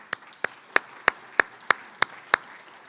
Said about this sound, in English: Could we have a round of applause for the good work that they do?